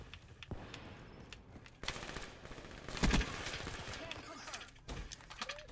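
Gunfire in the video game Black Ops 3 during a multiplayer match: rapid bursts of automatic shots, with a loud, sharp volley near the middle, over a busy background of game sounds.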